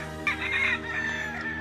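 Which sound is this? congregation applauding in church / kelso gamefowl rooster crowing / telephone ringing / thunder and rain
kelso gamefowl rooster crowing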